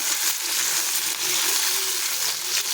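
Capsicum pieces frying in hot oil in a pan for a potato and capsicum curry, a steady bright sizzle and crackle that runs continuously close up.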